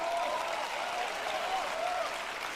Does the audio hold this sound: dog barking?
no